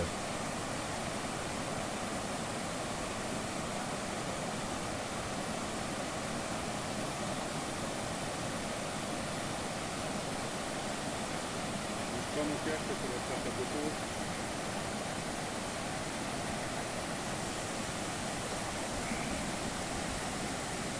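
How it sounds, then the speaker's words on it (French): Continuous broadband rushing of a waterfall near Sedano, Spain, steady and fairly loud, with a faint voice now and then beneath it. "La première chose que nous allons voir, c'est une cascade."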